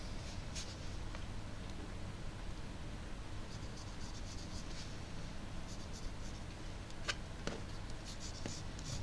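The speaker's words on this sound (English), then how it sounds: "So the rough sketch is basically just drawing some lines." A pencil drawing rough sketch lines on paper gives a soft, continuous scratching and rubbing, with faint strokes repeating steadily and close up in an otherwise quiet room.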